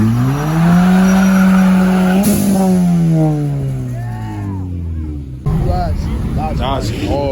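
Car spinning its tires at a car meet, a loud sustained squeal and screech with engine revving that fades, then crowd noise and voices take over.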